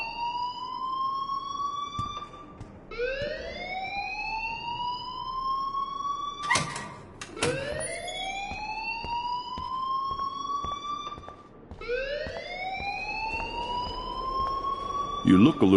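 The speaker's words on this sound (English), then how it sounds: "please turn off that alarm since that's your job" A school alarm in the Life is Strange video game repeatedly wails in rising electronic sweeps, loud and continuous, with brief breaks between cycles and a couple of sharp clicks in between.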